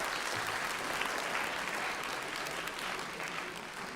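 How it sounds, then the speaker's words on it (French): Sustained audience applause at a jazz concert, a dense wash of many hands clapping that holds steady and fades slightly toward the end. "Applaudissons."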